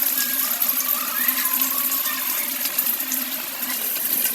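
Taro root pieces frying in hot oil give a steady, dense sizzle and crackle that runs evenly for several seconds at close range, with no voices over it.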